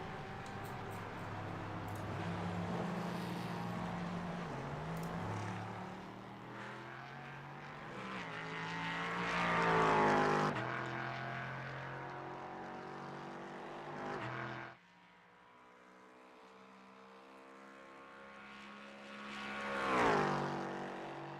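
A V8 sports car engine in a racing video game, at Daytona, revs and drops through gear changes, rising to loud howling peaks, then easing off before climbing again.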